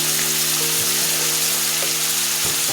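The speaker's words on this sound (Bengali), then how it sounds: "শিং মাছটা ভালোভাবে ভেজে নিতে নেই একটু তেলে।" Shing catfish frying in oil, a loud, dense continuous sizzle that holds steady with occasional faint clinks beneath it.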